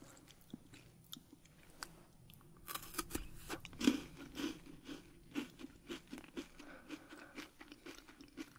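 Chocolate-coated coffee wafers are bitten and chewed close to the mic, a string of quiet crisp crunches and snaps that grow into steady rhythmic chewing, with no talking.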